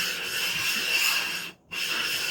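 A resin bond diamond stone is rubbed over a plate with aluminum oxide abrasive, a close, steady gritty scrubbing that pauses briefly before resuming.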